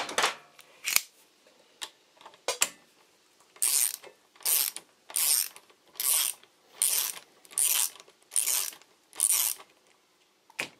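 Ratchet wrench loosening bolts on a Harley-Davidson Street Rod 750 during a 20,000 km service, heard as a few scattered clicks and then a steady series of about eight close, crisp ratcheting bursts in even rhythm, no talk.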